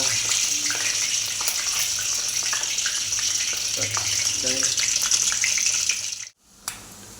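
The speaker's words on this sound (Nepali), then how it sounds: "अन्डा फ्राई हुँदैछ" An egg fries in oil in a pan with a steady, close hiss and scattered pops and crackles that run for several seconds, then stop abruptly near the end.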